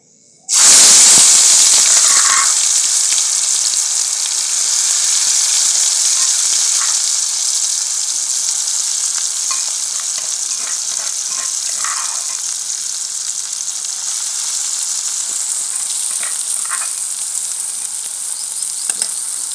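Masala roasting in oil in a kadhai for stuffed karela, a steady close sizzle and hiss that runs the whole time, with occasional scraping stirs and no talking.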